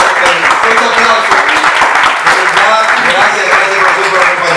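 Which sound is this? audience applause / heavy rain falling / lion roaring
audience applause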